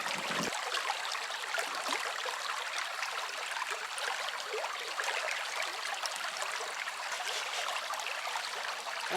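A homemade mining sluice carries a continuous close flow of water, a bright splashing rush that starts abruptly and keeps going evenly to the end, with nobody speaking.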